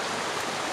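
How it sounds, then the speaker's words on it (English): A wild mountain stream in Avery County, North Carolina, rushing steadily over rocks, a close, even wash of water noise with no voices. "Made it to the stream."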